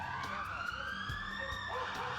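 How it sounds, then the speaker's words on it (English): A passing ambulance siren wails steadily in rising and falling sweeps around a parked car on the street, loud and continuous throughout, with faint muffled voices beneath it. "There's some kind of siren that's freaking them out."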